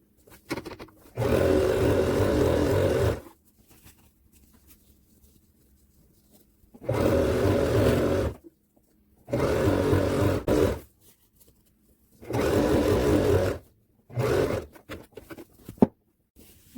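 A sewing machine stitches a quilt pillow case made from old clothing and a blanket. It runs in five loud bursts of steady whirring, each lasting one to three seconds, with quiet pauses between them.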